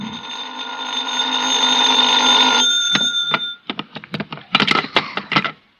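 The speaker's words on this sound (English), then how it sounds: "I was still in bed when the phone rang." A telephone rings in an old-time radio detective drama, one long sustained bell tone followed by a rapid string of short clattering rings, close and loud with no speech.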